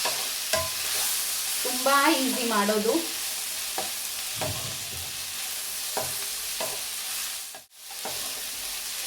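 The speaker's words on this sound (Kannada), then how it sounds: "ಗರಂ ಮಸಾಲಾನ ಒಂದು ಚಿಟಿಕೆ ಹಾಕ್ತೀನಿ ಅಷ್ಟೇ ಒಗ್ಗರಣೆಗೆ." Garam masala tempering frying in a pan for a Sunday mutton curry masala, a steady close sizzle with stirring scrapes and a brief louder burst of crackle early on; a voice speaks briefly.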